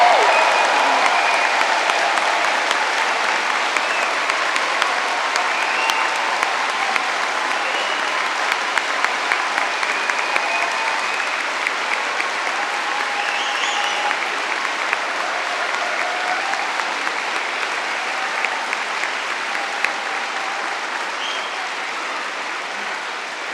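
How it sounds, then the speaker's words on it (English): Sustained applause from a large audience at a university degree ceremony in London, a dense, steady clapping texture lasting throughout and slowly tapering toward the end. "let's start the ceremony by giving our amazing graduates a very noisy round of applause"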